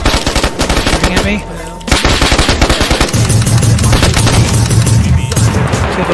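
Rapid automatic gunfire from the DayZ video game, loud dense bursts of shots with booming low end that pause briefly and resume in sustained streams, close and continuous throughout.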